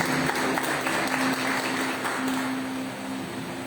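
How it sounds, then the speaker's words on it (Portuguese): A church congregation applauds during a service, with dense sustained clapping that holds steady and then eases slightly toward the end. "Você pode aplaudir o Senhor uma vez mais."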